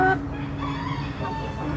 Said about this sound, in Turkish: Bu da hızlı gelişen horozumuz